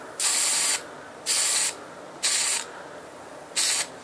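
Four short bursts of aerosol spray paint hissing onto a small 4-watt preheat fluorescent strip light, each pass lasting about half a second with quiet gaps between, close and loud.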